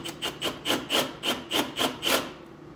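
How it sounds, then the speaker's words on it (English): A tool scrapes back and forth across wood in about nine even, rasping strokes, close up, then stops, chamfering the wood's edges. "I'll just kind of chamfer the edges so I can take off the head"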